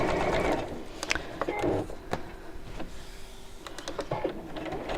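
A home sewing machine with a zipper foot stitches a bag seam, a soft, fairly faint whirring that runs in short bursts and pauses with small mechanical clicks between runs.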